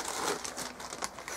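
A small plastic bag holding tumble dryer lint, crinkled by hand in a cellar: a brief, close rustle of crackly plastic with no voices.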